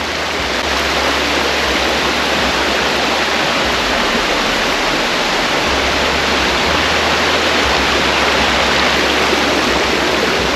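Loud, steady rush of a mountain river flowing over rocks on a White Mountains ravine trail, a dense broadband roar that fills the whole stretch without a break.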